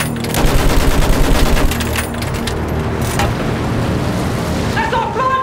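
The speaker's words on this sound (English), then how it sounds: "Use that machine gun. Mow them down." Sustained machine gun fire in Battlefield 1, a dense loud burst over the first two seconds and then continuing under battlefield noise, with in-game voices shouting orders over the shooting.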